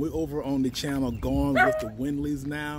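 A dog at a dog park yips, whines and barks in a continuous, loud, close run of high whimpering calls while a person talks over it.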